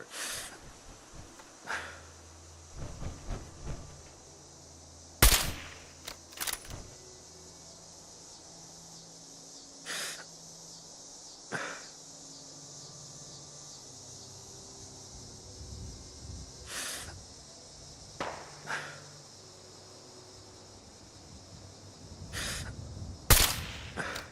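Gunshots in the Fallout 4 video game, with sharp isolated cracks spaced several seconds apart, a few louder than others, amid quiet breathy background noise and no talk.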